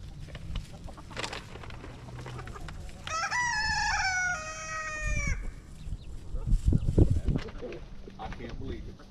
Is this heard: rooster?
yes